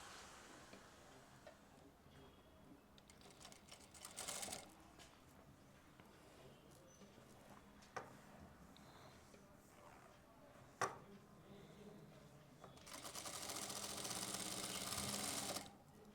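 A sewing machine stitching a zip onto bell-bottom pants runs in short quiet bursts, with a few clicks between them and a louder steady run near the end.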